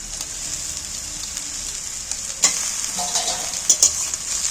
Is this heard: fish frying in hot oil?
yes